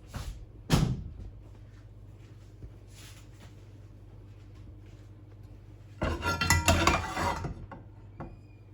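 A frying pan is handled in a home kitchen during preparation of chicken-breast kebab rolls: one sharp clank near the start, quiet, then a busier burst of scraping and clattering that lasts a second or so.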